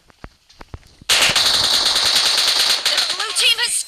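Sustained automatic gunfire from PUBG Mobile erupts after a few sparse single shots, loud and continuous for nearly three seconds with faint shell-like pings near the end; a voice is briefly audible early on.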